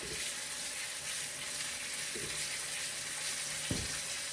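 Thick, untrimmed chops sear in a hot pan with a steady, broad sizzle that runs the whole time. A few soft knocks break through it, and no one speaks.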